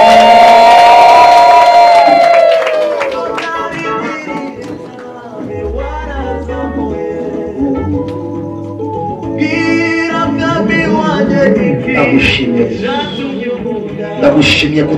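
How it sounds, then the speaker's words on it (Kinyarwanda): A church congregation at a bishop's installation ceremony claps and ululates, lively crowd noise with high trilling cries and cheering, rising and falling over music and a loud voice speaking. "Reka abagabo bakoma amashyi, ababyeyi bavuza impundu."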